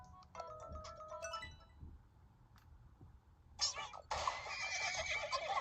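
A cartoonish horse whinnies in the Miitopia video game, a short harmonic neigh near the start, followed later by louder bright game sound effects and music.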